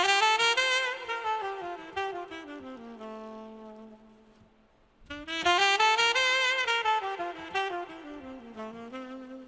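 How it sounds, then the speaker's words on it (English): A saxophone loop sample from the Cymatics Dreams pack plays a smooth, legato melodic phrase, swelling and fading before a second phrase enters, alone and close without any talking. "the third one is a saxophone loop from Cymatics Dreams"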